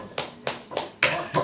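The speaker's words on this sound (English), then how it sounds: "The clapping really helps." Hands clap five times in a steady rhythm, close and crisp.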